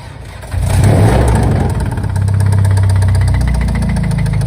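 A Volkswagen Golf R stage 3 engine of over 500 bhp starts and runs loudly with a heavy, rapid knocking clatter throughout, close and harsh.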